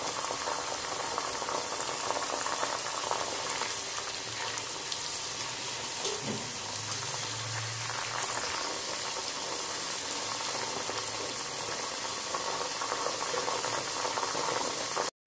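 Jackfruit chips deep-fry in hot oil after salt water is added, giving a continuous bubbling, crackling seethe that holds steady for about fifteen seconds before cutting off abruptly.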